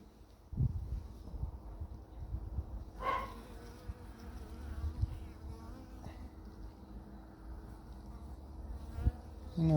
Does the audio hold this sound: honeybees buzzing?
yes